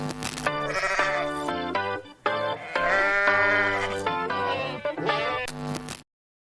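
A loud, wavering goat bleat plays as a sound effect triggered by a button, made of several drawn-out cries with a brief break partway through, then ending abruptly in silence.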